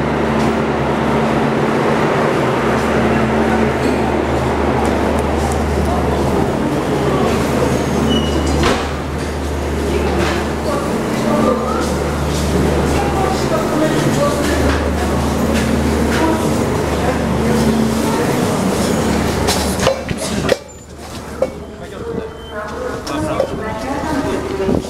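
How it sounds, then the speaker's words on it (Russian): A passenger train stands at a Russian railway station near Novosibirsk, giving off a steady low rumble with occasional clanks and knocks while people talk nearby, before the noise thins out near the end. "Вот он, наш поезд."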